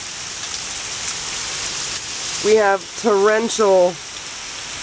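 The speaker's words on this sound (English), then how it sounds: "torrential rain" Heavy, steady torrential rain from Hurricane Irene in Hampton, Virginia hisses continuously at close range while someone speaks briefly over it.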